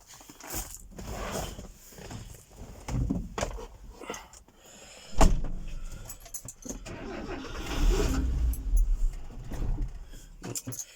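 A pickup truck engine idling and revving up in irregular bursts, close by and moderately loud, with someone talking at times over the engine noise.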